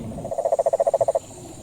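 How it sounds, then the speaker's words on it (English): A single tree frog in a rainforest gives a rapid train of about a dozen evenly spaced croaks, close and clear, ending abruptly. "There's the tree frogs and occasional parrots and different types of monkeys."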